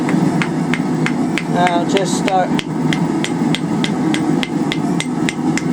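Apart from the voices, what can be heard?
hammering a steel rake over the anvil horn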